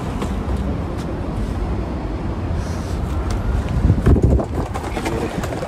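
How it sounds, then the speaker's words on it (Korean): Heavy wind buffets a handheld microphone outdoors on an Osaka street, a continuous low rumble that swells and gusts louder near the end, with no talk over it. "바람이 불었어"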